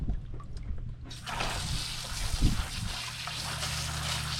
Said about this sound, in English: hose the guts right out into a bucket